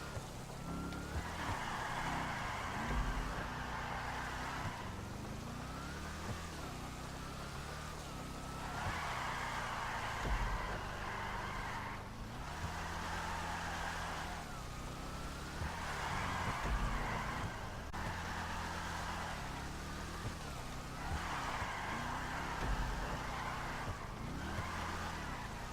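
Bravado Gauntlet Hellfire muscle car in the video game GTA V, its engine roaring in repeated surges as it accelerates and eases off, with brief tire skids between bursts, loud and continuous with some talk over it.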